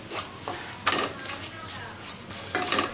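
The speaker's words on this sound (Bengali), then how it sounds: "গুঁড়ো মশলাগুলো সব এখানে ঢেলে দিলাম। দিয়ে এই সব উপকরণের সঙ্গে মিশিয়ে নিচ্ছি।" Ground spices are stirred into a jackfruit and prawn curry in a pan, giving a close sizzle with several bursts of spatula scraping and clinks, and no talking.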